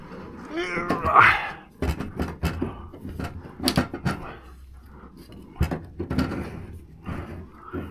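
A cat meows once, fairly close, followed by scattered knocks, clatter and handling noises.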